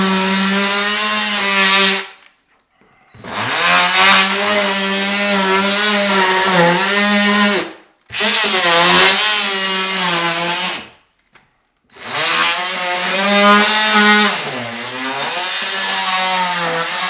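Power saw cutting a straight line through drywall during a home renovation, loud whining motor runs in three long bursts separated by short silent pauses, close up, with no talk.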